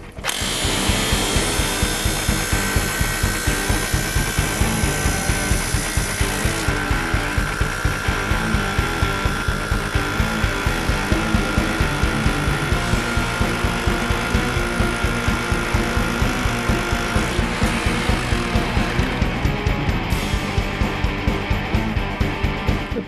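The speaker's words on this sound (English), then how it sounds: "You can even go through a steel plate and right into concrete." A Caliburn Blitz Bit drill bit boring through steel plate and on into concrete, a loud, continuous grinding drill roar with a rapid hammering pulse that runs unbroken from start to finish, close up and with no voices.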